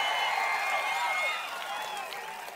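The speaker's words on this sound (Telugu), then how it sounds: "గట్టిగా చప్పట్లు కొట్టి హర్షాన్ని ఆమోదం తెలియజేయండి" A large crowd claps and cheers together at a political rally in Machilipatnam, a loud, dense burst of applause that slowly fades over a couple of seconds.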